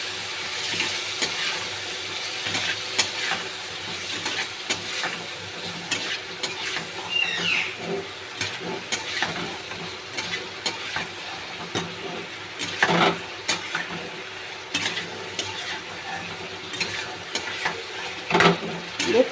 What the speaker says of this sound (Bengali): এবার এটাকে ভালো করে আমি কষিয়ে নেব